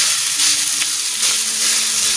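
Rice frying for garlic fried rice in oil left over from cooking dried fish, a loud steady sizzle close up with faint stirring scrapes and no talk.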